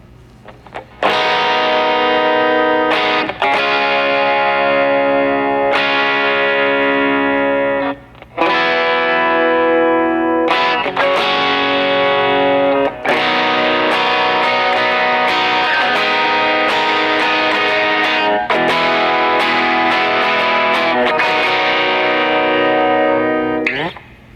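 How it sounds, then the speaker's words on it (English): Electric guitar with heavy tube-style distortion plays ringing, sustained chords and notes, strummed in bursts with brief gaps between phrases. "I used a tube drive. It sounds like this."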